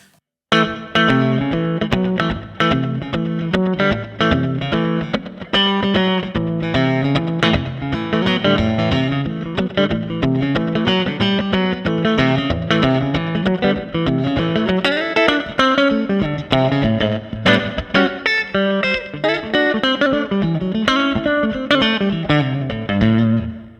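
An electric guitar plays a continuous melodic line through a 116-millisecond delay, each note followed by quick repeating echoes that blur the phrases together.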